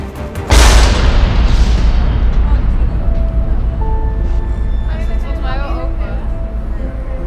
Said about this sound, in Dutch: er gaat nu wat achter mij ontploffen